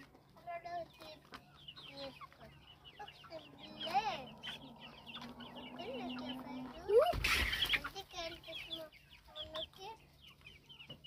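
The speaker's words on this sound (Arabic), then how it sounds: "طب يا حسن الفراخ عايز تتعشى يا بابا، الفراخ عايز تتعشى" Farm chickens cluck and squawk close by at feeding time, with intermittent clucking calls and one loud burst of flapping or squawking, while people talk nearby.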